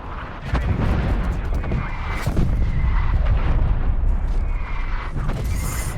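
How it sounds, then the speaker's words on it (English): Bombs explode in a video game, producing a continuous, loud rumble of blasts and crackling impacts that blur together throughout without pauses, and no one talks over them. "Those bombs are targeting me."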